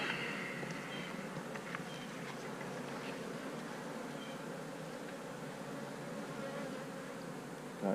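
Honeybees buzzing at an open hive during a comb honey harvest, a steady dense hum holding level throughout, close and moderately loud, with no talk.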